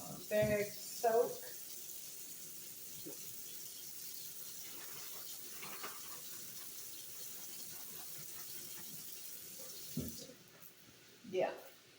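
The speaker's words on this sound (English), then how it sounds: "Rinse out the bag, pour in a little Dawn, and let my bag soak." A plastic bag that held fajita meat is rinsed under a running kitchen tap: a steady wash of water with a few louder splashes and knocks near the start and end.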